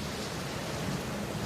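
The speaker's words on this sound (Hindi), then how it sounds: "एक दिन गांव में जोरदार बेमौसम बारिश होने लगी।" Heavy unseasonal rain pours down steadily over a village house in an animated story, a dense, constant wash of falling water that stays loud and unbroken throughout with no voices.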